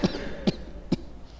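During a medical lecture on pneumonia, a person imitates coughing with three short, dry coughs evenly spaced about half a second apart, fairly close, over a quiet room with no words spoken.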